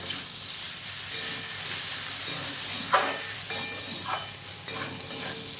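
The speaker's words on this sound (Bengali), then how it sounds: "দেখুন, এভাবে নাড়াচাড়া করতে হবে।" A spoon scrapes through papaya and chana dal curry as it sizzles in a hot pan, a steady close frying hiss broken by soft knocks and scrapes, with no voices.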